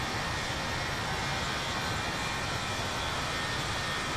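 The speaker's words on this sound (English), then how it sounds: "Just listen to these engines." Steady, loud jet engine roar with a broad whooshing hiss, continuous and unchanging throughout, from the engines of an older A319 airliner in Microsoft Flight Simulator.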